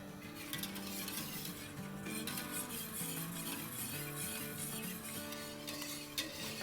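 A spoon stirring a vermicelli, cornstarch and flour mixture in a pot over a medium flame, soft continuous scraping and faint clinks under a steady bubbling, simmering background, with no voices.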